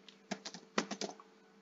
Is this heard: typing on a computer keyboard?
yes